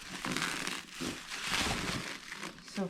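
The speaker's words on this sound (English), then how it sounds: "Unboxing. Unwrapping." Car parts are unwrapped from plastic packaging, giving close crinkling and rustling in a few bursts with brief pauses between handling.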